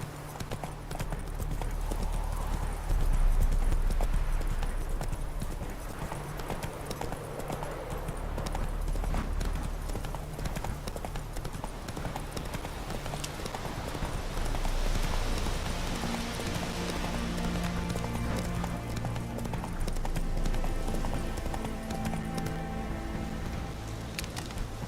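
Roach the horse gallops in The Witcher 3, hooves clip-clopping in a steady continuous rhythm throughout, fairly close, with faint ambient game sound and a brief whinny hint beneath.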